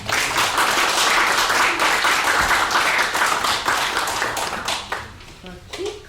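An audience at a community gathering claps in a thick burst of many hands, which gradually loosens into sparser, separate claps near the end, with some voices mixed in.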